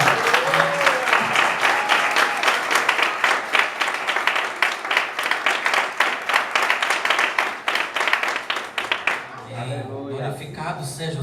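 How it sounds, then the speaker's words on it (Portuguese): A church congregation claps for the Lord during a Christmas service, sustained rapid applause with voices rising over it, then the clapping fades out near the end as speech carries on. "Dá uma salva de palmas ao Senhor"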